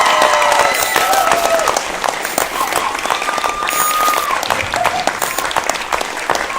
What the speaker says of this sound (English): Can I get a huge round of applause for all 7?